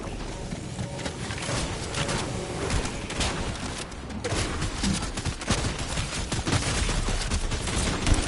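Shotgun fire in the video game Fortnite, dense bursts of gunshots and impacts layered over a busy, continuous game soundscape, loud and close with no clear speech.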